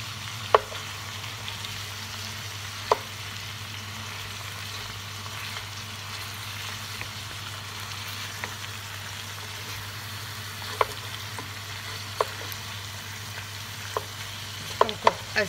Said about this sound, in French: quand les morceaux de lapin commencent à dorer, on le retourne pour faire dorer l'autre côté